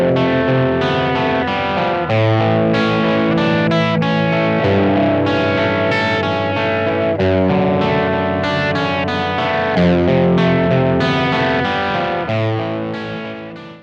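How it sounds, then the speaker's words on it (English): Electric guitar played through a Boss GT-10 crunch preset that simulates a Marshall Plexi amp gives loud, steady distorted chords and riffs, full and sustained with no talking, fading slightly at the end. "I really like the Plexi simulations on the GT-10 for this kind of sound. So here's one of those presets."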